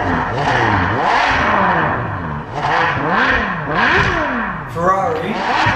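A Ferrari 599 GTO V12 revs repeatedly, its engine note rising and falling in loud, close sweeps with a harsh, rasping tone and barely a pause between blips.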